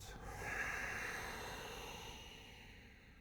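A slow breath out during a yoga stretch, soft and breathy and close, one long exhale that fades gradually against a quiet room.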